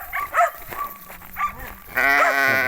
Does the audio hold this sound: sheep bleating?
yes